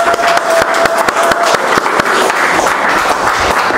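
A church congregation applauding loudly and steadily to acclaim the Lord, with rhythmic clapping that carries on for several seconds.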